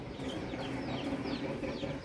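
Faint high peeping of chicks, several quick chirps scattered over a steady low background rumble.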